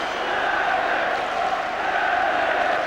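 Large football stadium crowd at an FA Cup match between Crystal Palace and Manchester United, a dense, sustained roar of cheering voices, loud and unbroken throughout.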